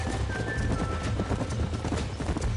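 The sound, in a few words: horses galloping in video game Red Dead Redemption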